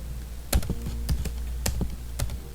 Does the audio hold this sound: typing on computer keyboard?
yes